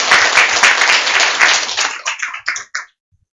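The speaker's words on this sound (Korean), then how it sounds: "박수로 따뜻하게 응했으면" A church congregation claps in warm applause after a first-session talk, dense and steady at first, then thinning into a few scattered final claps before falling silent.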